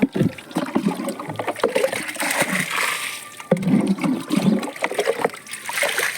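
Old water is poured and splashed out of a dogs' drinking container in uneven bursts, sloshing and trickling close by, with a brief pause midway before more splashing.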